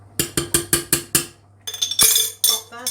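A spoon scraping Branston pickle from the bottom of a nearly empty glass jar gives five evenly spaced bright clinks, followed by a pause and then a scatter of scraping, clattering glass knocks close up.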